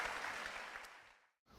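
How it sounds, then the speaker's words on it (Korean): A church congregation claps together in a loud, dense burst that fades away toward the end and then briefly resumes. "주님께 영광의 박수 돌리겠습니다"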